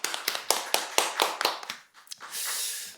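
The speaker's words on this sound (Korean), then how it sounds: "우리 하나님께 영광의 박수를 올려드립시다." Inside a church, a congregation claps in a quick series of sharp, evenly spaced hand claps, then swells into a short burst of fuller applause.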